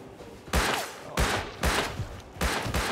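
A Thompson submachine gun fires in Rust with four loud bursts spaced about half a second apart, each sharp and close with a noisy, echoing tail between them.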